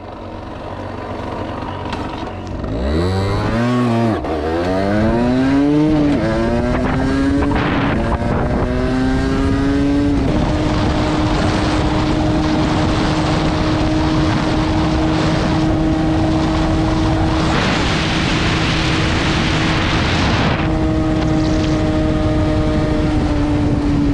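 A stock Derbi 50cc motorbike revs hard through rising gear pulls at full throttle, its whining engine climbing in pitch before settling into a loud, sustained high-speed drone with wind rush, close and continuous.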